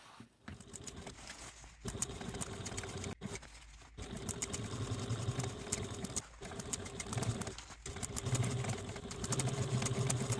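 A sewing machine top stitching a fabric project bag, running in steady bursts of rapid mechanical patter broken by short pauses, close and moderately quiet.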